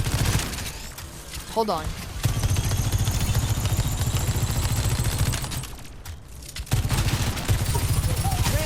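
Rapid bursts of gunfire from a new character's gun in Overwatch 2 hammer on steadily for most of the stretch, loud and close, with a brief lull partway through and a short spoken remark over the shooting.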